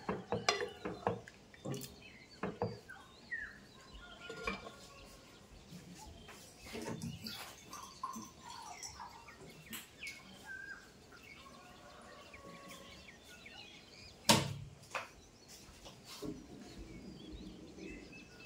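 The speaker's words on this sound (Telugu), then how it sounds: "నేను మాత్రం నా కిచెన్కి ఆపోజిట్లో ఉన్న బర్డ్స్ వాయిస్ని వింటున్నాను" Birds outside, opposite a home kitchen, chirp and call in scattered bursts, faint and somewhat distant, with quiet clinks and rustles between the calls.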